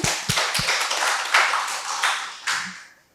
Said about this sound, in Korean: 홍진수님이 원경이하고 호수를 위해서 박수를 쳐드리세요.